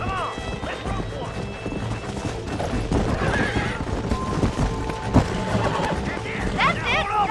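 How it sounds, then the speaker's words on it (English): Horses whinny and hooves clip-clop in the Red Dead Redemption video game, several neighs rising over busy hoofbeats and game ambience while a voice shouts over the action. "There's the horses! Get those horses ready!"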